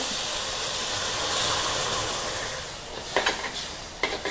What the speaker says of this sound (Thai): ผัดให้วุ้นเส้นนะคะให้มันมีความนิ่ม